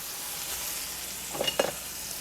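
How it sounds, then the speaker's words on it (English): A pan sizzles steadily while beef and asparagus cook during deglazing, a soft continuous fry with a couple of brief sharp crackles and stirring knocks near the end. "And we're also going to deglaze the pan"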